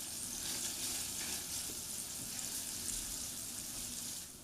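Minced garlic sautéing in melted butter or margarine gives a steady, close, even sizzle with a soft bubbling hiss that runs unbroken throughout.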